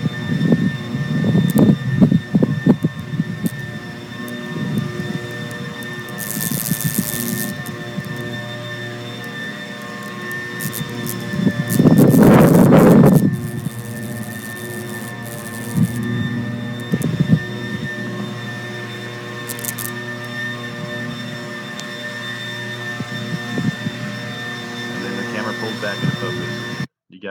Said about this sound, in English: No, that's the sound of the camera trying to focus.